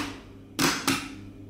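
A magnetic motor-starter contactor pulls in when powered, giving two loud, sharp mechanical clacks about a quarter second apart over a steady low electrical hum, with no talk.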